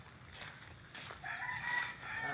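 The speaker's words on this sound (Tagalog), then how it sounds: "Ito yung kanyang mga manok" Chickens cluck and murmur faintly in the background, with a soft, uneven chorus of fowl calls.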